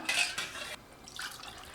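Water pours into two cups of rice in a pot for Dindigul-style vegetable dum biryani, a short splashy gush at first, then softer trickling and liquid sloshing with faint clinks, close by and with no talking.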